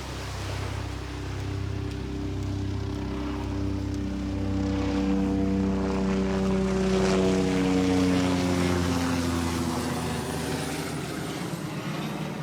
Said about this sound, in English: here comes a noisy helicopter again.